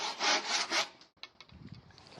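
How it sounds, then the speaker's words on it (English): A handsaw cuts discs off a wooden broomstick in a few quick, rasping strokes up close, followed by softer scraping and knocking as the wood is handled. No one speaks. "I'm just going to cut a couple of discs of the same broomstick to use as plugs"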